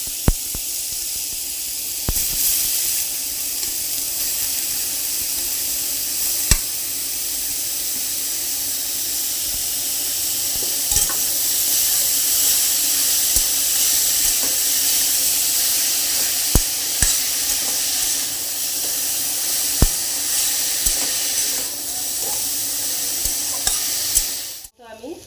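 Grated raw papaya sizzles steadily in a hot pan for malpua, a continuous frying hiss broken by occasional clicks and scrapes of a utensil stirring against the pan.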